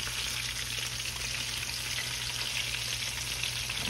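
Hand pies frying in hot grease in a skillet give a steady, dense sizzle that holds level throughout, close and continuous with no voices.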